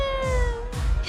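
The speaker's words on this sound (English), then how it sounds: "You wanna play with the kitty?" A cat meows in a cartoon scene, with a few drawn-out, close, tonal cries following one another over a faint background.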